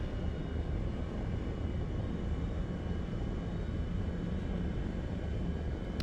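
A Su-17M2 jet in the War Thunder combat flight game drones steadily in flight toward an airfield, a low, constant engine rumble and rushing air at a low, even level.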